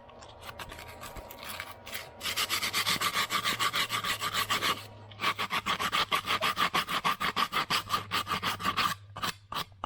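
Sanding burrs off the edge of a PVC pipe: close, steady rasping strokes in quick repeated bursts, with a short pause midway before the rhythmic scraping resumes.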